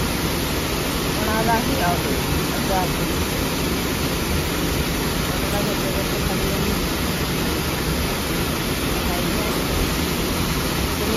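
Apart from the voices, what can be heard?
waterfall roaring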